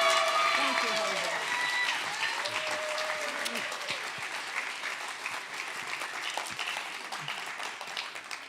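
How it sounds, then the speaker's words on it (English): Audience applause for student music performers at a school spotlight concert, a dense wash of clapping that starts loud and gradually thins over several seconds, with faint voices underneath. "They all deserve such a wonderful round of applause."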